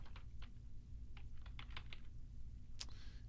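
Keys clatter on a computer keyboard in short bursts of clicks as a folder name is typed, with a brief sharper tap near the end, set against a steady low hum.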